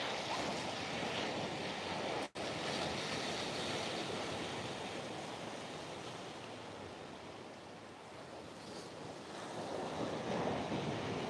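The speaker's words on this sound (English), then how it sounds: "There's that backwash hitting these young guys." Ocean backwash surges over a rocky shore on a coastal whale-watching trip, a continuous broadband wash with wind buffeting the microphone, steady and fairly loud throughout with a brief dropout near the start.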